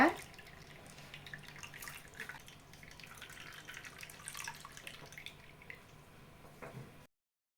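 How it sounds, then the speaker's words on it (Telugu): A milk and jaggery mixture pours through a strainer into a bowl, making a faint, trickling liquid flow with soft drips, quiet and close for about seven seconds before it cuts off. "ఇప్పుడు ఇలా మిక్స్ చేసుకున్న పాలను అయితే ఈ బౌల్లోకి వడగట్టేస్తున్నా"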